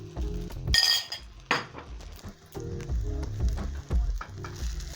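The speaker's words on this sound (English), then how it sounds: "add my eggs in the pan" Eggs frying in a pan, a moderate sizzle broken by metallic clinks and scrapes of a utensil against the pan, close and uneven, with no talk.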